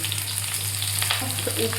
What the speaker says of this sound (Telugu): ఇప్పుడు మనం ఈ ఉల్లిపాయ ముక్కలు, క్యారెట్ ముక్కలు, పచ్చిమిరపకాయలు తాలింపులో వేసేసుకుందాం